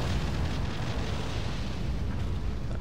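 Continuous heavy rumbling blast with rolling low-end roar from cannon fire in the Godzilla 2015 video game, loud and sustained without distinct separate shots.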